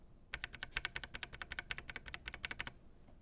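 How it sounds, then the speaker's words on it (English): A mechanical keyboard fitted with unlubed lavender switches is tapped rapidly up close, giving a bright, brisk run of roughly two dozen clacks in an even rhythm, with no other sounds. "And then here is an unlubed lavender switch."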